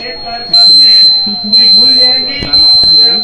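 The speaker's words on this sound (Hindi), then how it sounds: "वो प्री स्टार्ट अलार्म बज रहा था।" A conveyor belt pre-start alarm at a coal transport site sounds as a steady, high-pitched buzzing tone that runs unbroken through the whole stretch, with people talking over it.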